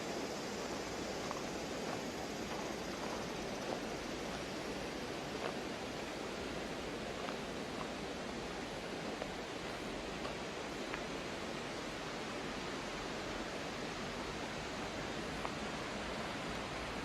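A cool mountain valley stream flows beside a campsite, a steady, broad rushing wash of water that stays even throughout with no voices.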